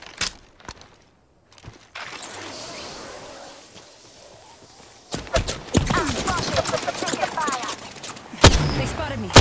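Video game gunfire in a squad battle royale match: a few isolated shots open over near-silence, then a low wash of ambience, followed by dense rapid volleys of close, loud shots crackling on to the end.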